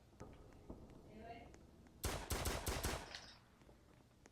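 Rapid bursts of automatic gunfire crackle loudly for about a second in a Roblox horror game, following a stretch of quieter game ambience.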